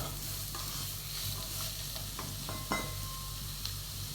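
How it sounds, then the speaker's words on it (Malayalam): Chopped onions frying and being stirred in a pan for mutton curry, a steady soft sizzle with occasional spoon scrapes and clinks, close and fairly quiet, no talking. "ഇനി ഇതിലോട്ട് ഞാൻ 2 സവാള എടുത്തിട്ടുണ്ട്, അത് ഇട്ട് കൊടുത്ത് ചെറുതായി അരിഞ്ഞത്."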